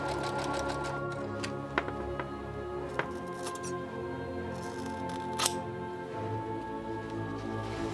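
A sewing machine fitted with a zipper foot stitches a second layer of main fabric onto the brim of a witch hat, giving a fairly quiet, rapid mechanical whir punctuated by occasional sharp clicks.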